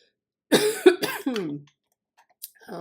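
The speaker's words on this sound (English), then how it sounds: "So much talking makes me cough." A woman coughs in a quick cluster of three or four harsh, close coughs, then a brief pause and a faint throat noise, alone with no talking.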